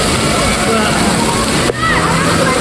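Strong rushing water from a high-pressure water park fountain splashes steadily throughout, loud and close, with a brief dip partway before the spray resumes.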